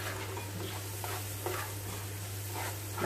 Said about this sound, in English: So I'm going to stir fry that for about maybe 3 to 4 minutes, just for the peppers to soften a bit